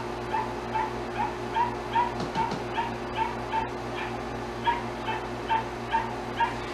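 A dog whimpering and yipping softly during an obedience training session, repeated short whines in a steady rhythm over a low background hum, moderately close.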